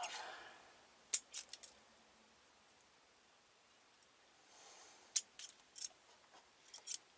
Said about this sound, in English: I'll trim them off.